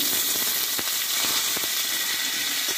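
Sliced potatoes hit hot oil already seasoned with bay leaf and panch phoron, giving a steady loud sizzle and crackle with a few light clicks of stirring.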